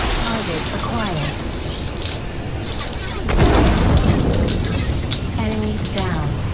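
Rear-fired missiles detonate in a Star Citizen space dogfight, a deep broad boom swelling at mid-clip over steady engine and combat noise, with voice chatter and alerts running underneath.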